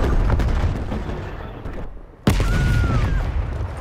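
Grenade explosions in a video game shooter: a dense, loud, continuous din of gunfire and blasts, with a brief dip before a sudden, sharp, close explosion that cuts in and keeps the rumbling barrage going.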